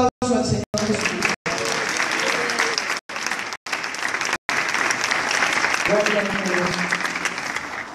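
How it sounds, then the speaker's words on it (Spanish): Congregation applause at a Sunday school church service in Barcelona, loud sustained clapping filling the room, broken by a few short gaps, with voices and a sung or spoken line mixed in beneath. "Denle un aplauso al Señor Jesucristo."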